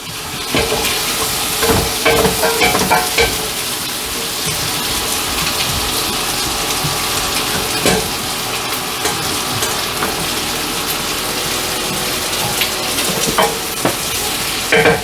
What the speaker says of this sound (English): First we're going to add the onions, potato and paprika in.